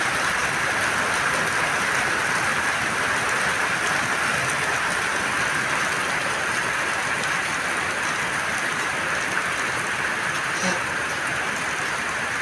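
Rain comes down hard in a thick, continuous wash of noise, steady and loud from start to finish, with a few faint drips standing out.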